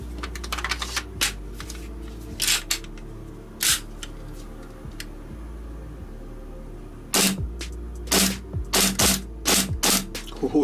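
A KJWorks KP-06 Hi Capa airsoft pistol running on gas fires a series of sharp, crisp cracks, first in spaced single shots and then in a quicker cluster of rapid shots, with quiet gaps in between.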